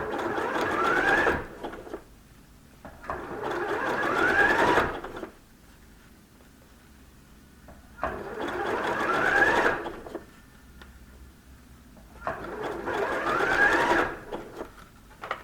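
A sewing machine runs a wide, close zigzag stitch along the edges of faux fur patchwork scraps, whirring in steady bursts of a few seconds each with short quiet pauses between, close and even.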